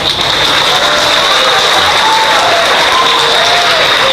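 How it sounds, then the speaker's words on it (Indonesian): A mosque congregation at an Ustaz Abdul Somad sermon claps in loud, steady, dense applause that fills the hall for the whole stretch, with faint murmuring underneath. "Orang tuh pun tepuk tangan ragu-ragu."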